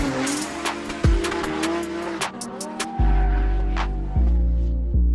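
A rear-wheel-drive drift car accelerates hard through a bend, engine revving loudly and rising with repeated gear changes while the tires squeal in long sustained screeches close by.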